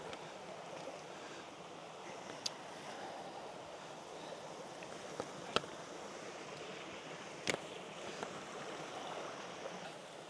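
Steady rushing water from a winter waterfall pouring over rocks, a constant even wash heard from a short distance, with a few faint sharp clicks standing out above it.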